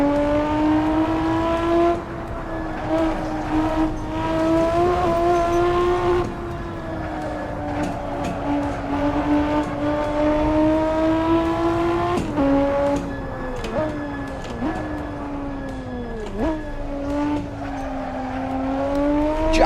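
Race car driven in the Assetto Corsa racing game, its engine loud and steady as it climbs through the gears, dropping in pitch at each shift, with short dips and brief squeals toward the end.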